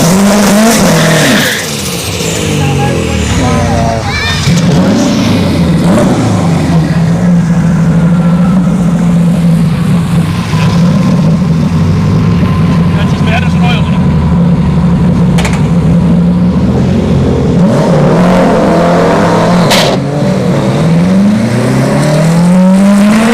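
A drag racing car does a burnout on wet tires at a dragstrip: a loud, sustained engine roar with squealing tires that rises and shifts, ending in sharper bursts near the end.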